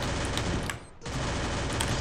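Rapid bursts of automatic rifle fire in the mobile shooter game Free Fire, loud and close, dropping out briefly in the middle before resuming.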